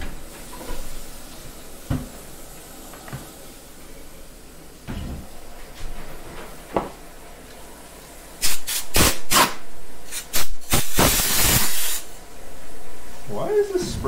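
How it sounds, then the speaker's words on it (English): A spray bottle squirts fluid during a home birthday cooking session: a quiet stretch with a few soft knocks, then a quick series of loud hissing spray bursts close to the microphone. "Why is this spraying so much fluid out of it?"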